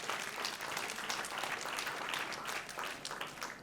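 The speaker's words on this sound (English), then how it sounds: "If you want to clap him because he deserves it." Members at a credit union annual general meeting clap for their leader, a soft, steady patter of many hands heard from a distance in a room, continuing at an even level for a few seconds.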